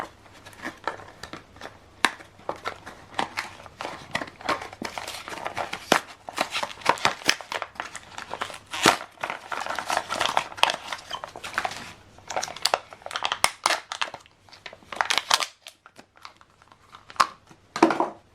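Protective tape is peeled from a Canon 540 black or 541 color ink cartridge for a PIXMA MG3600 printer, giving close, irregular crinkling and tearing of plastic with sharp snaps scattered throughout.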